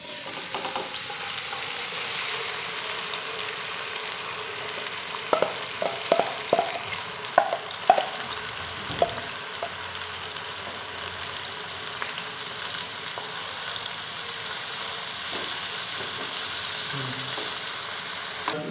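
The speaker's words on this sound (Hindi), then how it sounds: "सबसे पहले हम चूंग की जो सब्ज़ी है इसको फ्राई करेंगे।" Finely chopped chunga vegetables fry in a pan with a continuous soft sizzle, broken by a cluster of sharp clinks and stirring knocks partway through.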